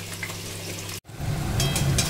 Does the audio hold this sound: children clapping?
no